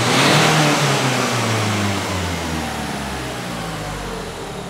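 A Renault Clio 4 engine revs hard during an emissions test with the probe in the exhaust, a loud opening surge easing into sustained high revving with a steady fan whir beneath, no voices.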